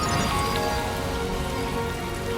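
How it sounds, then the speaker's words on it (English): Steady rain in the video game Death Stranding 2 pours down as a dense, even hiss of drops on surfaces, loud and continuous throughout with no voices. "Rainy."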